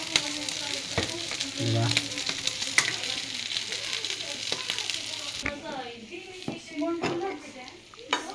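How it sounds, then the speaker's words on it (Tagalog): Sisig sizzling on a hot plate, a steady bright crackle and hiss of frying meat, with faint clinks of utensils and a few spoken words over it. "Ready na yung ating sisig. Sizzling sisig."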